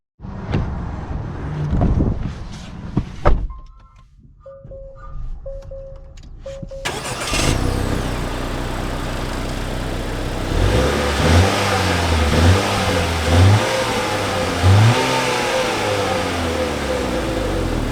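An Acura TLX A-Spec car starts up with a short cranking whir and catch, settles into idle, then pulls away with the engine rising through several rev sweeps, loud and close from inside.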